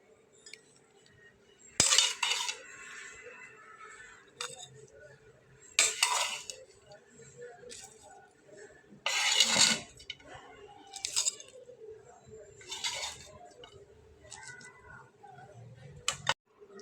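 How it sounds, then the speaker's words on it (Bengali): Boiled yardlong beans are ground on a stone shil-pata, heard as intermittent scraping and knocking strokes of the stone pestle coming in short bursts, fairly close and quiet, with no talk. "তো সেজন্য আমি এটাকে শিলপাটাতে বেটে নেব"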